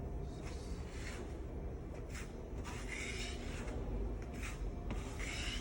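Fine 240-grit sandpaper rubs back and forth over a bus's rear body panel in steady, soft scratchy strokes, quiet and close, with no talking.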